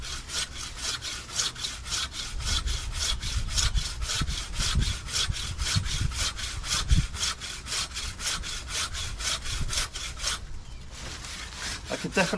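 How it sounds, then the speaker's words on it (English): A hand tree saw cuts through a large tree limb in steady back-and-forth strokes, close and rasping, about two strokes per second, with a brief pause near the end before cutting resumes. "So using a tree saw by hand."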